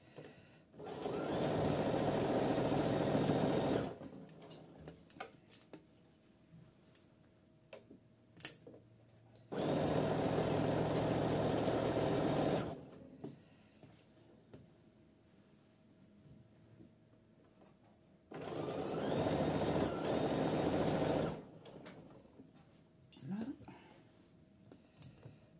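Sewing machine stitching fabric at close range, running in three steady bursts of about three to four seconds each, separated by quiet pauses while the needle stays down and the work is turned.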